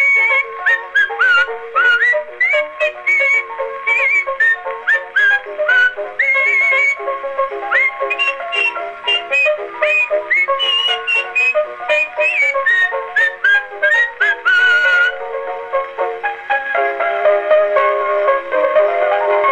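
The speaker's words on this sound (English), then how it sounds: "she whistles me this tune" A person whistles a lively melody, clear and close, with quick trills and steady phrasing, alone with no other sounds, on an old Edison cylinder phonograph recording.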